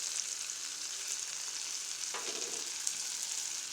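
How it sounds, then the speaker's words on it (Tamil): Drumsticks and chili powder sauté in oil for a tamarind curry, making a constant bright sizzle with one brief scrape of stirring, close and uninterrupted. "போட்டு நல்லா அந்த எண்ணெயில் வதக்கிக்குவோம்"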